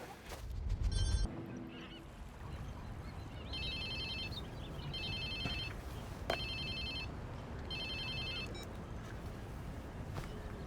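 A cell phone ringing in Watch Dogs 2, several repeated bright ring bursts at an even pace over a steady ambient hum, with a brief low thump at the start.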